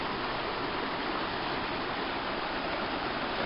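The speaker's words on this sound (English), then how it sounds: "It kind of goes off down some rapids over that way." A stream rushing over rapids gives a steady, broadband hiss of flowing water, continuous and even throughout with no talk.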